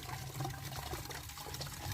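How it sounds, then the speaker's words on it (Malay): Water drawn from an underground source by an automatic pump into a tank, a steady close trickling and splashing flow that continues unbroken throughout without any voices. "ni ada routing ambil air bawah tanah"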